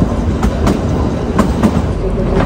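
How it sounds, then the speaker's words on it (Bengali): A passenger train around Solan station on the Shimla line, heard close and loud from inside with a continuous rumble and repeated rhythmic clacks of wheels over rail joints. "আর এইখানে কিন্তু ট্রেন জাস্ট কিছুক্ষণের জন্যই দাঁড়াবে।"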